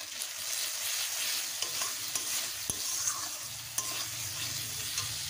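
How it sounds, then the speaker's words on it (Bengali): Turmeric and Kashmiri chilli powder masala fries in a pan for a Bengali fish and potato curry, a close bright sizzle with scattered scraping clicks of a stirring utensil, no talking. "দিয়ে দেব পরিমাণ মতো হলুদ গুঁড়ো, দিয়ে দেব কাশ্মীরি লঙ্কা গুঁড়ো। ভালোভাবে কষবো।"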